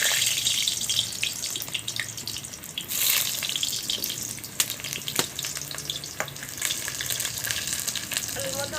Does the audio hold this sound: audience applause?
no